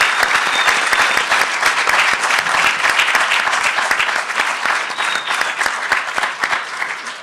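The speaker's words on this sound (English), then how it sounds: "Let's give them a huge round of applause." Loud, sustained applause from a school board debate audience, dense clapping that fills the whole stretch without pause and tapers only slightly toward the end.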